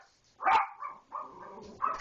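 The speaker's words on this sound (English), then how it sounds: "The dogs are saying get up too." Dogs bark and yip in a home early in the morning, several short close bursts with whimpering tones, roughly three separate outbursts over two seconds with quiet gaps between.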